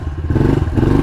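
A modified pit bike engine revs hard, a close, loud, throaty burble with a rough pulsing beat that swells partway through the short burst.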